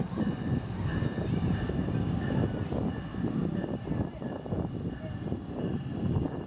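A Metrolink passenger train rumbles past in Los Angeles, a steady, loud low-pitched roar of engine and rolling wheels that stays even for the whole stretch, with no talk over it.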